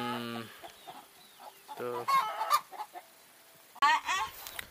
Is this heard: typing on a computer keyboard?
no